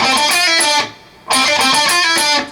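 An electric guitar plays a riff from a song, with bright bent and picked notes in two loud, close phrases separated by a short gap, and no talking.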